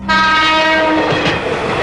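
A train passes close by, its loud horn sounding steadily over the rumbling roll of wheels on track.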